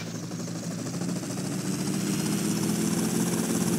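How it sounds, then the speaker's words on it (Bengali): A helicopter in the video game GTA Vice City idles with a steady, droning engine and rotor hum that swells slightly as it runs, close and continuous with no talk. "এই যে সেই হেলিকপ্টার যেটার জন্য আমি এতক্ষণ ধরে বসেছিলাম।"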